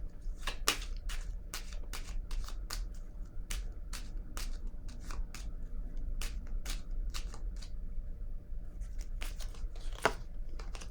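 Tarot cards being shuffled and drawn at close range, a rapid series of crisp, papery riffles and snaps at an uneven rhythm over a quiet room hum, with no talking.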